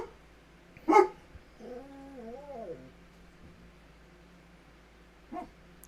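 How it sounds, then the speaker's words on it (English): Dogs indoors let out a sharp bark, then a wavering, whining yelp, and after a pause one more short bark, all fairly close over a quiet room. "they don't even know what they're barking at"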